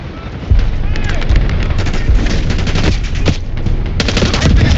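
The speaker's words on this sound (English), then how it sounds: "We're taking heavy fire at the helo." Heavy automatic gunfire rattles in dense bursts around a downed helicopter in Call of Duty: Black Ops 6, loud and sustained with sharper cracks near the end, under a voice talking.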